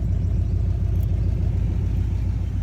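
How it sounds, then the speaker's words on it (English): A truck engine idles through dual glass pack mufflers, giving a steady, close, loud low rumble that holds for the whole stretch with no talking. "Y'all hear that rumble? It's got them dual glass packs on it."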